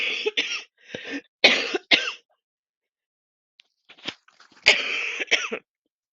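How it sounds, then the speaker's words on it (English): Repeated coughing and throat clearing from one person in a quiet room, arriving in two bursts of several harsh, close coughs with a short silence between them. "I did not know I was going to cough so much."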